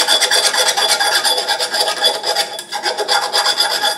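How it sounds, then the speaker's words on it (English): A hand file rasps along the cut edge of a metal pipe to clear the burr while installing a wood boiler, producing loud, close, continuous back-and-forth grinding strokes in an even rhythm. "I take a file"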